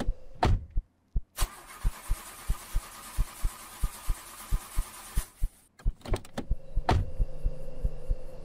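A car engine in a horror video game cranks over and over without catching: a steady, rhythmic run of dull thumps that stops abruptly, with a few scattered clicks and knocks around it.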